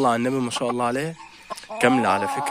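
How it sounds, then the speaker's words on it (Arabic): A Shamo hen of German line clucks in a backyard coop among other chickens, short repeated clucks close by, mixed with someone talking over them. "دي دجاجة شام وألماني"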